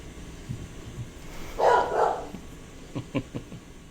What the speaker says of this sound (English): there's the dog barking at the landscapers